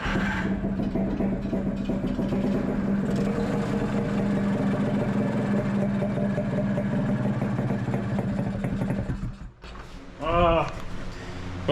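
A rebuilt car engine runs steadily at idle, a continuous loud mechanical drone filling most of the clip, then dips and falters near the end as the idle struggles to hold.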